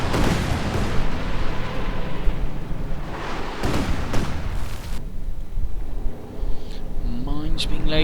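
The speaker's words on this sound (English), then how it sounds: "Another Katyusha barrage." A Katyusha rocket barrage in a WWII strategy video game sends out a steady, dense roar of launches and explosions with heavy booms throughout, loud and continuous under an excited voice speaking.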